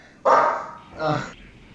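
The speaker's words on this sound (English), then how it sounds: "So the dog's just being annoying." A dog gives two barks indoors, close and fairly loud: a sharp first woof and a softer second one, with quiet room noise after.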